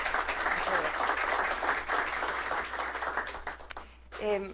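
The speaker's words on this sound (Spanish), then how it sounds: "darle un fuerte aplauso" Audience applause at a legal lecture in a cultural hall, steady dense clapping filling several seconds before fading, with a voice speaking at the end.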